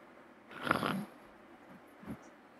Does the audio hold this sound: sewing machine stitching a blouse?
no